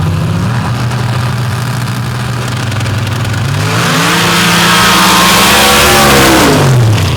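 A nitrous drag racing car with a 960 cubic inch Sonny's engine holds a loud idle, then launches in a rising, roaring rev whose pitch sweeps upward; close and dominant, no talk.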